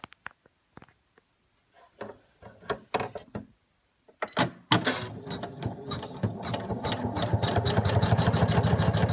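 An embroidery sewing machine stitches a pony's eyes and nostrils in blue thread. After a few scattered clicks and taps, it starts up and runs in a steady, fast, rhythmic whir of stitching close by.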